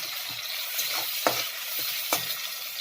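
Tomatoes and onions frying in a pan, a steady close sizzle broken by a few scraping stirs of a spoon at roughly regular intervals, with no voices.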